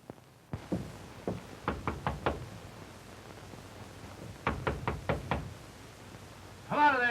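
Knocking on a house door: a few sharp raps, then a quick run of four, a pause, and another cluster of five knocks, fairly close and alone, with a brief voice starting at the very end.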